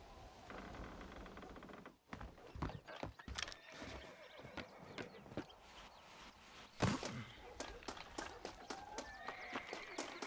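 A horse in the Western video game Red Dead Redemption whinnies and snorts over steady clip-clop hoofbeats on hard ground, close and fairly loud, with scattered thumps and no talking.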